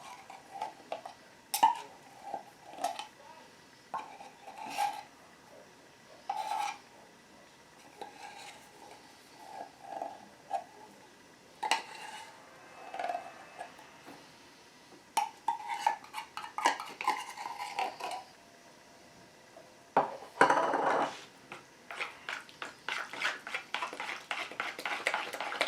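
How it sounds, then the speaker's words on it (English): A utensil mixes pumpkin pie filling of pumpkin, pumpkin pie spice and sweetened condensed milk in a bowl, giving repeated close scraping and clinking strokes in irregular bursts with pauses and no talking. "And mix this all together nicely."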